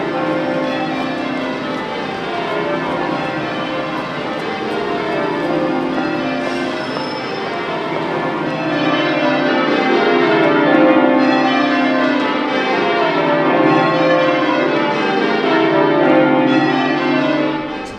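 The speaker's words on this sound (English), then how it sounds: "So it does take time just to be able to ring a bell on your own" The Bow Bells church bells peal continuously in overlapping, cascading strokes, loud and resonant throughout, with no voices.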